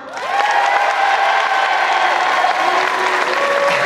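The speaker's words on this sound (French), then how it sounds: "On va faire un test par applaudissement." A comedy show crowd in Metz breaks into loud, sustained applause mixed with cheers and whistles, a dense wall of clapping that holds steady.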